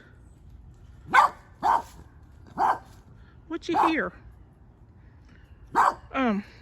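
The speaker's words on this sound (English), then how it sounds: "What are you barking at" A dog barks several times at irregular intervals, fairly close, with a short whine at the end and a person speaking briefly between barks.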